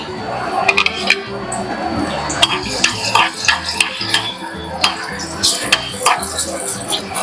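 Garlic dropped into heated oil in a pan for sambar, a steady crackling sizzle running throughout with frequent spoon scrapes and clanks against the metal vessel.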